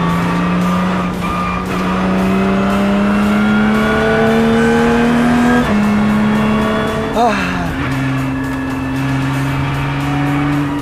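A Lotus Cup R race car driven hard, its engine note climbing steadily through the gears with loud, close revving and a sharp shift partway through; a voice talks faintly under the engine.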